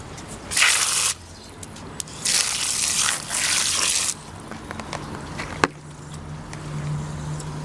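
Water from a garden water barrel pours into a clean bowl in separate bursts of splashing and gushing, each a second or so long, close and fairly loud, with quieter handling sounds between.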